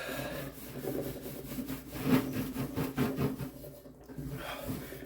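Steady rubbing of powder into a metal cymbal, a continuous rasping, scraping texture with rhythmic strokes, close and moderately loud.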